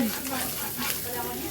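Fried ground spices sizzle steadily in hot oil while being stirred in a pan for a potato chop filling, a continuous soft hiss under a faint voice.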